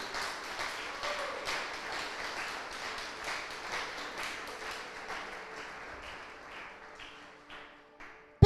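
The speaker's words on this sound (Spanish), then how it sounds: "dale un aplauso al que vive" Applause during a Spanish-language church service, a moderate wash of clapping from the congregation that gradually thins and fades over several seconds, ending with a sharp knock.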